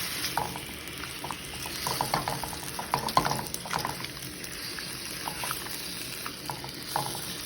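Tofu and radish are stirred in a pan with soft, intermittent scraping and light sizzling. The sounds are faint and irregular, with scattered small knocks and no speech.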